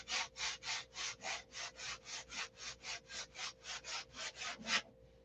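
Hand sanding of wood with coarse 60 grit sandpaper: about nineteen steady, even back-and-forth rasping strokes in a quick rhythm, close and clear, with no talk over them.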